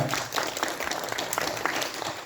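Audience applause at a Tamil poetry book launch ceremony: dense, steady clapping from a gathered crowd that fills the whole stretch at moderate loudness, with scattered sharper claps standing out.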